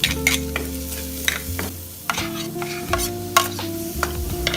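Garlic and onion sautéing in a pan for pancit palabok, a steady sizzle with repeated stirring scrapes and clinks from a utensil throughout.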